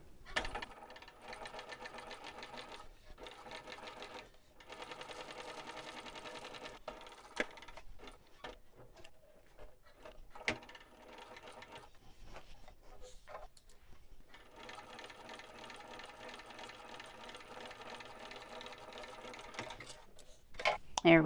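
A sewing machine runs in steady bursts while backstitching a seam, its fast mechanical whir stopping briefly for the reverse and resuming, with small clicks in the pauses and a voice speaking faintly at times.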